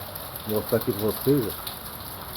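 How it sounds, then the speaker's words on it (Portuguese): Heavy rain falls on an overcast early morning in a dry region, a steady broadband hiss running through the whole clip beneath someone speaking briefly in Portuguese. "o tempo tá carrancudo e chovendo bastante, graças a Deus"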